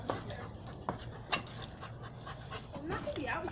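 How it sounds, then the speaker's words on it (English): Dogs pant quickly and steadily close by, with a few soft clicks and faint whimpering sounds, while someone talks quietly nearby. "That's my dogs."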